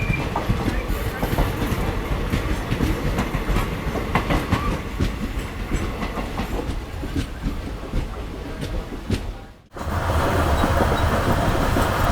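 The Muzaffarpur–Anand Vihar clone special train rolls along with steady clickety-clack from the wheels, loud and close as if heard from inside a sleeper coach, then cuts out briefly to near silence before the rumble returns.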